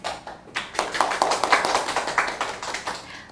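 A small group claps to welcome a mentoring program staff member at an online launch ceremony and training session for university student mentoring clubs, the dense patter of hands starting after a brief pause and holding steady without speech.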